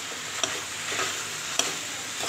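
Sliced ridge gourd frying in a pan with spiced masala, a steady close sizzle throughout with a couple of sharp utensil clicks against the pan.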